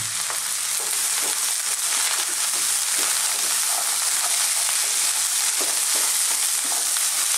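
Chickpeas (chana) and spices sizzle steadily in a hot pan for a chickpea spinach curry, with soft scraping stirs recurring throughout under a continuous frying hiss.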